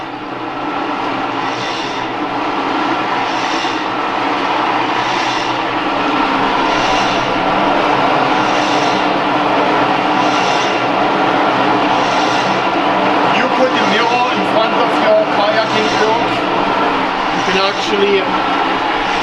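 A kayak and canoe ergometer whirs steadily under continuous paddling, its flywheel rushing with a rhythmic surge on each stroke, close and loud throughout the clip.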